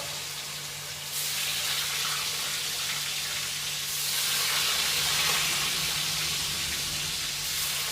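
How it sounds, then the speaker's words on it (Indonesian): Tofu frying in a pan sizzles and hisses steadily, a continuous moderate crackle that swells slightly over several seconds with no talk. "Sekarang selesai goreng tahu"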